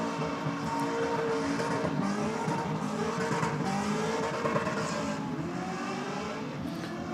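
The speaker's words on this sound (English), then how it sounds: "Big RPM on board so far for this skid." Race car engine revving hard through a skid on a clay track, a loud, continuous roar with shifting pitch and gritty tire noise, steady throughout with no pauses.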